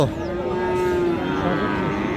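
A cow lets out a long, loud, low moo close by at a cattle market in Raniganj, Dinajpur, over a noisy outdoor background of chatter and bustle.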